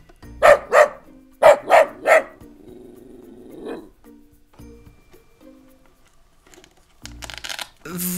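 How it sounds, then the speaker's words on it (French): A wooden toy dog is accompanied by barking five times in two quick bursts, loud and close, followed by a low growl and some rustling. "Voilà un chien."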